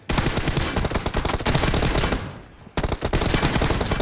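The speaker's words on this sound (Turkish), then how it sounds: "Bak o da bana tabanca atmaya çalışıyor bak." Rapid gunfire in PUBG Mobile, a dense burst of closely spaced shots running loud and continuous for several seconds. It drops away briefly near the end, then another loud burst follows.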